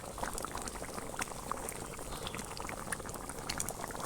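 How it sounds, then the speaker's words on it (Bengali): Dal of lentils simmers in a cooking pot with green chillies and coriander leaves added, a steady bubbling and popping close by that carries on evenly throughout with no talking. "এবার ডালটাকে খুব ভালো করে একটু ফুটতে দেব"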